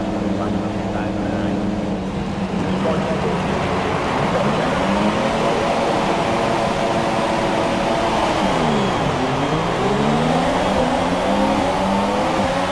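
Race cars in the F1 2017 video game accelerating off the start grid in Australia, a loud dense pack of engine whines rising and falling through gear changes, with a player's voice talking over the roar.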